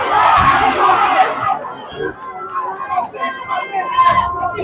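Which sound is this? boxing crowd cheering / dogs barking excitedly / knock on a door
boxing crowd cheering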